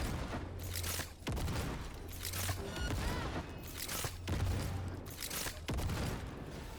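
Repeated bursts of gunfire in the shooter game Cyberpunk 2077, with several loud volleys spaced about a second apart over steady background game noise.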